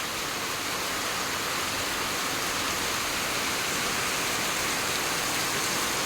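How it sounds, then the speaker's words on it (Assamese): Heavy rain pours down in a steady, dense, even hiss that stays loud and unbroken throughout, with no talking. "ডাঙৰ বৰষুণ দি দিলে পটককৈ"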